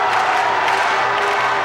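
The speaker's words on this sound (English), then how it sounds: "Another sellout crowd tonight. And it's been louder already, as we can tell." A sellout crowd of students roars steadily at an Indiana basketball game in Bloomington against Michigan State, a dense, loud, continuous wash of cheering with no breaks.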